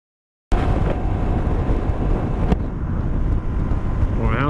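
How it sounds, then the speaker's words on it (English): Strong wind roars steadily across a UK coast during a motorcycle tour, buffeting the microphone as a loud, continuous broadband rush with one brief sharp knock midway. "It's pretty windy again"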